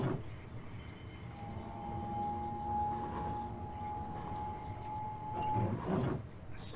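Low rumble of a 12-car Javelin train rolling along on a railtour, with a steady high tone from the wheels or brakes, plus a couple of louder clunks near the end.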